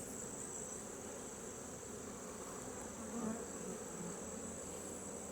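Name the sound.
honey bees buzzing at an open requeened hive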